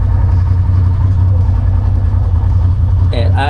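An older Polaris RZR side-by-side idles loud and steady, its low engine drone running unbroken, with a short burst of voice near the end.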